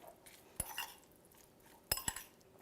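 Spoon or utensil clinking against a bowl while marinated ahi tuna is mixed with sesame seeds, a few sharp light taps and scrapes, quiet and close, without talk.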